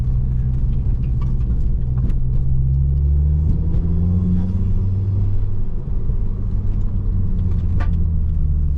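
An LV XR motorcycle engine holds a steady low drone in third gear on a wet road, pitch rising and falling gently around moderate revs, loud and close with no speech.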